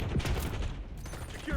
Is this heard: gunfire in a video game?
yes